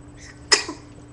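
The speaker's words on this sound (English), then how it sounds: "Y'all heard him sneeze, so look." One sharp, close sneeze bursts out abruptly in a quiet indoor lounge, then trails off quickly.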